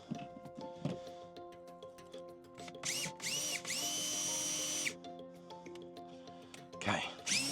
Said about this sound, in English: So we got those 2 holes pre-drilled.